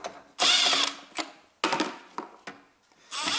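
Ratchet wrench removing bolts from the hybrid converter of a 2002–2009 Toyota Prius with the 1.5 engine, heard as several close bursts of quick clicking separated by pauses.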